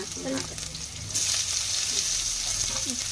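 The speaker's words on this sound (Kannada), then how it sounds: "ಬೆಳ್ಳುಳ್ಳಿ ಉಳ್ಳಾಗಡ್ಡಿ ಹಾಕಿಬಿಡು ಎಣ್ಣೆ ಕಾಯ್ತೈತೆ" Garlic and onion go into hot oil, and a loud, close hiss of frying sets in about a second in and keeps going. Faint voices murmur in the background.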